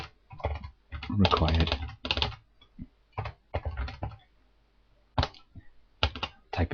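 Keys clatter in quick bursts on a computer keyboard while a short message is typed in Access, clusters of close, crisp taps with pauses between, and a voice speaks briefly.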